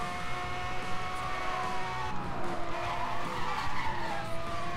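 Police car siren in the racing game Need for Speed Hot Pursuit, a wavering wail sweeping up and down over engine roar and tyre skids, moderately loud and continuous during a high-speed chase.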